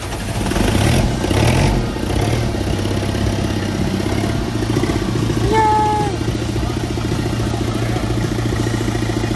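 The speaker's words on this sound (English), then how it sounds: "just a little bit of starter fluid on that air filter and she fired up" A VW-based Bugatti replica engine runs after being started on starter fluid, a steady mid-pitched engine drone with clattering, heard close throughout and mixed with background voices.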